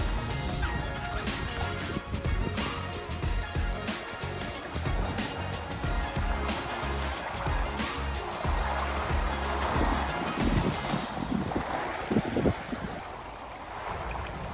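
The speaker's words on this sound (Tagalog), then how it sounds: "Ang sarap lang pakinggan yung waves, mga alon" Waves lapping on the shore of Lake Kawaguchi, a steady wash of water with wind buffeting the microphone and occasional splashes, continuous and fairly close with no speech.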